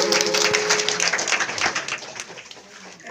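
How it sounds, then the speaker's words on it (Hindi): Church congregation clapping together in welcome during a Hindi-language Christian worship service, a dense, steady wash of applause mixed with voices that fades slightly toward the end. "परमेश्वर की जोरदार ताली स्वागत के लिए धन्यवाद दीजिए।"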